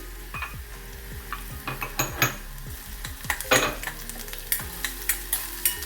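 Ginger and garlic sizzle in a hot pan while a spoon stirs and scrapes against the metal, giving repeated close clinks and scrapes over a steady frying hiss.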